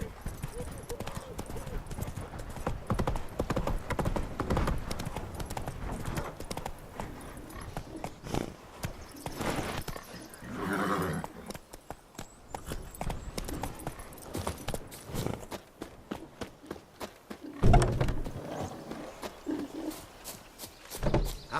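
Roach, the horse from The Witcher 3, gallops in a rapid clip-clop of hooves that runs under a man's speech, with a brief whinny partway through.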